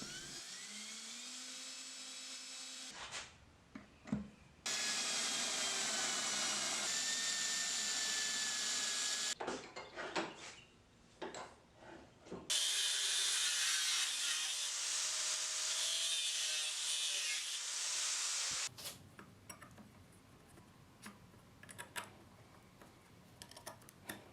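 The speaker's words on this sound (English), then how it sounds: "Now I'll clamp my knife and scales to the bench and then drill the holes for the pins." Workshop sounds: a steady whining power drill bores pin holes in knife scales clamped to a bench, in long stretches, broken by brief clattering handling and scraping of wood, with no talking.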